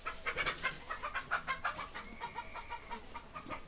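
Several chickens clucking nearby in an irregular, busy stream of short calls, with one drawn-out squawk in the middle, no voices.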